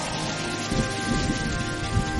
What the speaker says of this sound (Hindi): बिजली की तेज गड़गड़ाहट और बारिश की आवाज से रघु की आंख खुल जाती है।